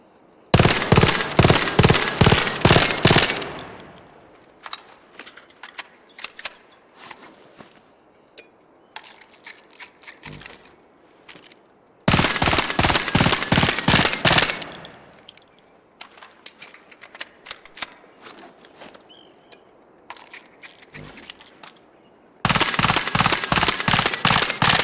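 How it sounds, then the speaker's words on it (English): An Arpeggio gun fitted with a Silencer 3 fires in three rapid suppressed bursts in the Arc Raiders video game, with mechanical clicks and handling noises in the gaps between bursts. "for you silencer fans, I finally got a Silencer 3 as well, so here's what they sound like."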